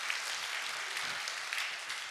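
A church congregation applauds during a Sunday sermon, a steady wash of clapping from many hands heard at a moderate distance, continuous throughout with no voices on top.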